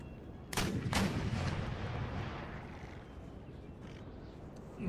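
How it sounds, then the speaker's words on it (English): Two sharp horse artillery cannon booms in the video game Empire: Total War go off close together, followed by a long rumbling decay under a low battlefield din. "Their horse artillery is firing, but I don't think it's actually having an effect."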